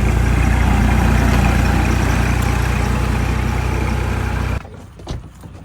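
Farm tractor engine idling nearby, a loud steady low rumble that runs for most of the clip, then cuts out abruptly and leaves faint background noise with a brief knock.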